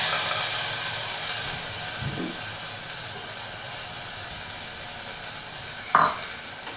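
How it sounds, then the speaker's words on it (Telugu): Washed toor dal tipped into a pan of sizzling fenugreek seeds, a steady frying hiss with a soft stir near two seconds and a sharper splash and crackle near six seconds. "ఆ టైంలో మనం కడిగి పెట్టుకున్న కందిపప్పుని వేసుకోవాలి"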